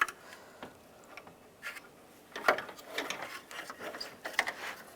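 Plastic clips on a 1999-2005 Volkswagen Jetta front grille snap into place, a few quiet close clicks and light knocks spread over a soft background.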